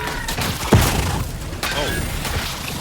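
A grenade explosion in The Outer Worlds 2, a sharp low boom amid ongoing combat clatter and thuds, with a voice talking through parts of it.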